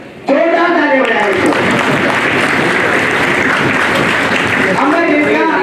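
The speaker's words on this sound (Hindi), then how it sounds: "जोरदार ताली बजाएं।" Loud, sustained applause from a large audience at an award ceremony held in the Parliament of India, a dense wall of clapping that runs nearly unbroken, with a voice faintly audible at the start and end.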